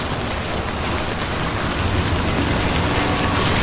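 Timefall rain in the video game Death Stranding falls as a dense, even hiss of steady downpour, continuous and fairly loud throughout.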